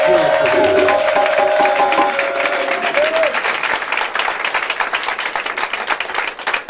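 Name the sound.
congregation applauding and cheering in church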